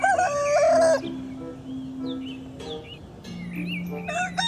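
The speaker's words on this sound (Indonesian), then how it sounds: "Ada seekor ayam." A chicken in the dinosaur game Jurassic World Evolution 2 crows loudly once at the start, followed by softer clucks and bird-like calls over steady game ambience.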